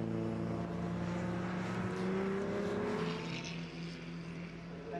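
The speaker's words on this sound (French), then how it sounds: "there goes the fourth placed BMW over the line" BMW race car at the Le Mans Classic crossing the finish line, a steady loud engine drone with a rising pitch sweep as it passes, joined by other engine noise throughout.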